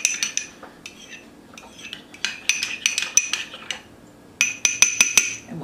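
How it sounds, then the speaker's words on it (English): A spoon stirs blue-colored batter in a bowl while making a kitchen craft, giving repeated close metallic clinks and scraping taps against the bowl in uneven bursts, with no talking. "Now mix up the blue one."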